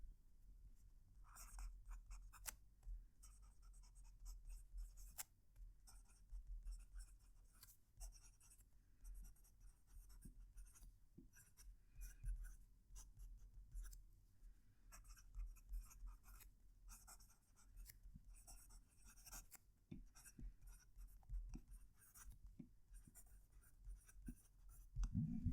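Quiet, close scratching of a fountain pen nib moving across paper in irregular strokes, soft and intimate with faint pauses.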